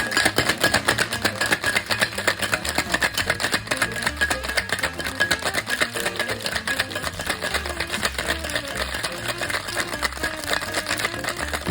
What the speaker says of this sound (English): Make sure the shaker is properly sealed, then shake strongly for 10 to 12 seconds.